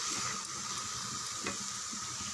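Onions sautéing slowly in oil on low heat for thokku, a soft, even, faint sizzle with a few light clicks and no talking.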